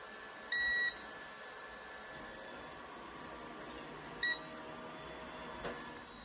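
Two short electronic beeps from a continuity tester a few seconds apart, the first longer, over a steady faint hiss, with a tiny click near the end, while checking DualShock controller contacts.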